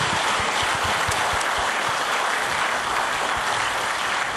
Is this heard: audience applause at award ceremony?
yes